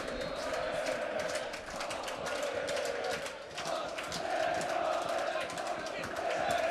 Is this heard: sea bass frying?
no